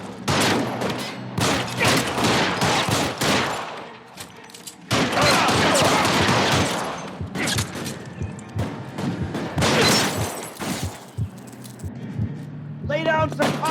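Gunfire in the video game L.A. Noire, a gunfight with security men: bursts of shots and impacts come in dense, loud clusters mixed with game noise, and voices talk throughout.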